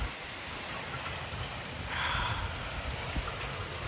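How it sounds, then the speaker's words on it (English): Heavy rain driven by strong gusts during a severe thunderstorm in Frisco, Texas, a steady loud hiss of rainfall that swells briefly as the wind picks up. "Oh gosh, the rain's blowing at me."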